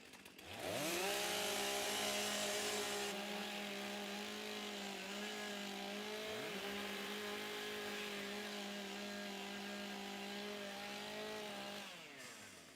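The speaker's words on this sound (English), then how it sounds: "Warm up your saws" STIHL chainsaws revving and warming up at a timbersports championship, several saws screaming at high pitch with rising and falling engine tones, loud and sustained for over ten seconds before cutting off.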